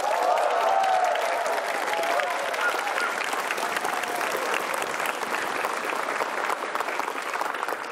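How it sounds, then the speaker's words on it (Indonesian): Warm, sustained applause from a live studio audience greeting Basuki Tjahaja Purnama (Ahok) at a televised stand-up comedy show, a dense continuous wash of clapping with faint crowd voices underneath. "beri tepuk tangan yang meriah buat Bapak Basuki Cahaya Purnama"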